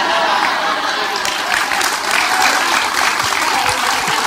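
Audience applause, a dense continuous wash of many hands clapping at steady loudness for a few seconds, close and full.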